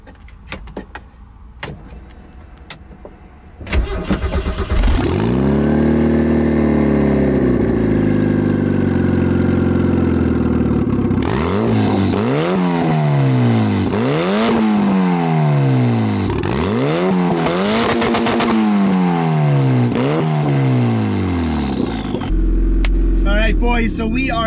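A turbocharged, stanced Mazda Miata engine idles, then revs loudly in repeated rising and falling surges, close and dominant over the whole stretch, with a few clicks and handling noises at the start.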